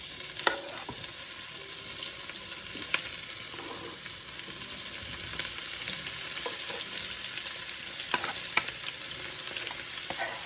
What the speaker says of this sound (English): So now I am going to put my season to fry guys.